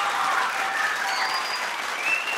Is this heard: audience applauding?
yes